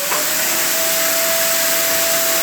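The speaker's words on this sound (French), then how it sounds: "Alors on aspire le plus gros déjà." A vacuum cleaner roars steadily while sucking dust out of a NAS, a loud, close, continuous broadband whoosh with a thin high whine on top, with no talking.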